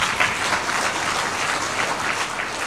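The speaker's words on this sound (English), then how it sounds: "Jameni, let's all be upstanding and we welcome the President with a round of applause." A standing audience gives the President of Kenya a warm round of applause, dense and continuous clapping at an even level throughout.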